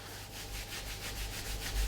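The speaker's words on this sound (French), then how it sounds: "On frotte jusqu'au bout des pieds, éventuellement, si on est assez souple pour amener son pied sur la jambe." Hands rubbing along the body and down to the feet during a seated chair-yoga self-massage, a steady soft brushing friction with gentle rhythmic pulses, close and alone without talk.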